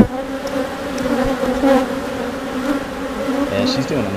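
Honeybees at an open hive full of pollen and brood hum in a dense, steady buzz close by, with a few individual bees droning louder past the microphone.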